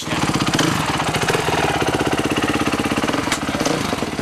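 A supermoto motorcycle engine warms up, idling loudly up close with a steady rapid thumping pulse and a brief rev near the end.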